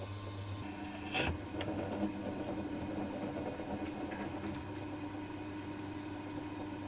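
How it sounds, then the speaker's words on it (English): A drill runs on a lathe while a watch hand press tool is machined, producing a quiet, steady low motor hum with a sharp brief click early on and faint scraping touches later. "drill started."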